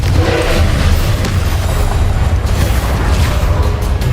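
The Confringo explosive spell goes off in the video game Hogwarts Legacy as a loud, sustained booming rumble with deep low-end roar and crackling debris throughout.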